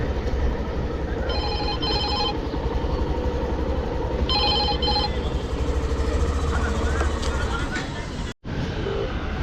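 A phone rings with a ride-hailing request in two short bursts of bright tones while waiting roadside near a station, under steady traffic and engine noise with background chatter.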